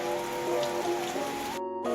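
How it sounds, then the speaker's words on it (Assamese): Steady rain falls on an Assamese home after a hot spell, a continuous soft patter and hiss that holds evenly for the whole stretch before briefly cutting out near the end. "কি বৰষুণ পৰি আছে কালিৰ পৰা একে ৰাখে"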